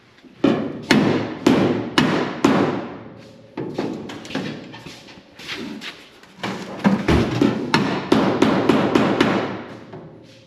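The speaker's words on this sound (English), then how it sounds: "Now, the body hammer." Sharp body hammer blows ring out on a 1966 Chevrolet Impala SS quarter panel in quick rhythmic runs, a dozen or more close, loud strikes with short pauses between sets.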